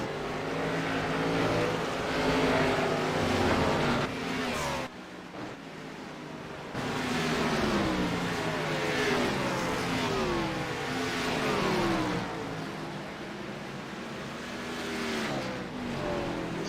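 Several sim race cars circling the short oval at Martinsville, engines droning and sweeping in pitch as cars pass close by, with a brief lull before the pack noise builds again.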